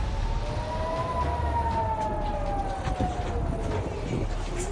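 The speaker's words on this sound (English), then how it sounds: "You can hear the siren played out again in Ashkelon" An air raid siren wails steadily in Ashkelon, Israel, a long rising and falling tone heard at a distance over a constant rumbling background.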